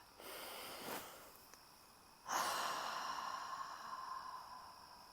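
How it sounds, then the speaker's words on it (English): A deep breath taken during an EFT tapping session: a soft, short inhale, then a longer, airy exhale that trails off slowly, close and fairly quiet. "Let's take a deep breath."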